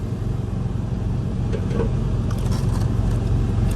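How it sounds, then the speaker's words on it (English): A refrigerated truck's reefer unit drones loudly and continuously nearby, a dense steady rumble with faint scraping over it, at a truck stop beside a Freightliner Classic. "there's a truck with the reefer behind me, being all kinds of loud"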